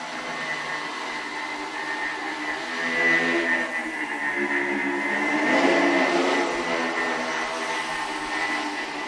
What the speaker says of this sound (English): When you put them together, they behave like one high-performance quadricopter.